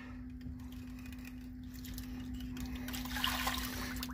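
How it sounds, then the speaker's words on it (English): Water poured from a can into a cooking pot, a soft continuous splashing trickle that swells slightly toward the end, faint and close, over a steady low hum with no talking. "Just add a little extra water there."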